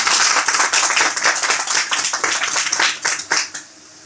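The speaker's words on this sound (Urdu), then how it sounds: "خداوند کے جلال کے لیے زوردار تالیاں" A church congregation in Kotwar, Sheikhupura district, claps loudly and vigorously for a few seconds. The dense, crackling applause fades out near the end.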